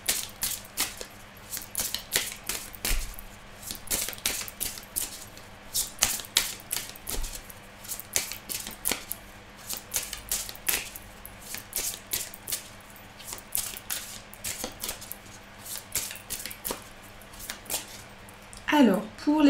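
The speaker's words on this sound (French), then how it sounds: "je remélange les cartes" Tarot cards being shuffled by hand in repeated crisp riffling bursts and soft slaps, close and moderately loud, with a person speaking intermittently between the shuffles.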